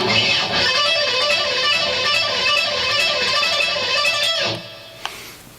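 Fast electric guitar rock lick in the style of an intense rock lesson, a rapid stream of bright distorted notes played loud and continuous, ending abruptly with a short decay and a single click.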